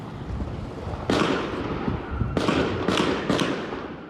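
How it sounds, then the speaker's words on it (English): Gunshots ring out on Toronto city streets at night: four sharp, loud bangs, a single one followed by three quicker ones, each leaving a long echoing tail that rolls off between buildings. "Gunshots heard echoing through the streets of Toronto."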